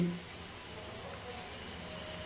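Fish curry gravy for koi fish simmers on low heat in a pan, making a faint, soft, steady crackle like light rain.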